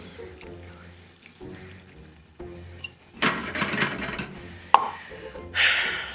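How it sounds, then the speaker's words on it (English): Water is poured into a pot to cover food as it heats. Soft drips and plops come first, then louder splashing pours arrive in two main bursts, close by. "we're just gonna cover these with water. Just barely cover them."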